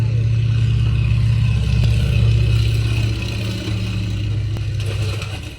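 A Stearman biplane engine drones close by, loud and continuous, with a slight dip in pitch partway through and no voices.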